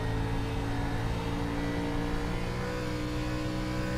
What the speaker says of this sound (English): Just that little blip of the throttle, keep the momentum up